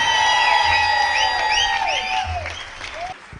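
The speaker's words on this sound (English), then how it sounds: "So can we have a big round of applause for the General Manager of the Taj West End" Crowd at an alumni meet breaks into loud, sustained applause with scattered cheers and whoops, a dense close clapping wash that gradually softens.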